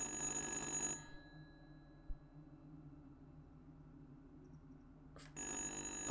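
A telephone rings in the horror video game Little Hope, a loud electric trill that stops abruptly, leaves a long quiet stretch of low hum, then bursts back in near the end.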